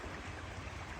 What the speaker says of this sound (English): This is water coming out of Deltona's big ditch